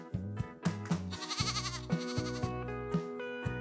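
Goats bleating in a farm setting, several loud wavering calls in quick succession, close and overlapping, with no talk.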